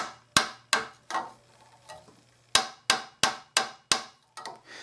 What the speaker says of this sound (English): Now I'm going to tap it with a rawhide mallet.